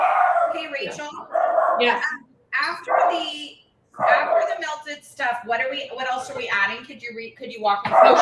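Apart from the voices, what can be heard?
dog barking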